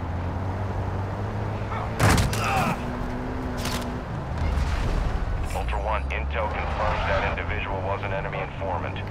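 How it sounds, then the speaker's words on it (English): Gunfire in the video game Call of Duty MW2 DMZ, sharp loud shots and a rumbling burst amid heavy battle noise and aircraft-like drone, with radio voices talking over it. "You are taking effective fire."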